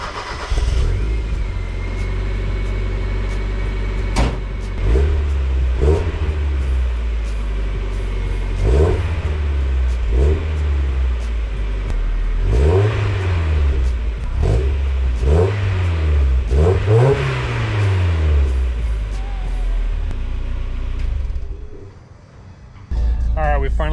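Car engine revving through its exhaust in a home shop, a rumbling idle broken by a series of sharp throttle blips that rise and fall in pitch, close and loud, with talking underneath.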